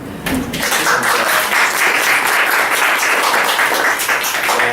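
An audience applauds at a poetry reading held for Robert Burns' Night at the Beach Library, producing a dense, steady wash of clapping that holds loud and even for several seconds.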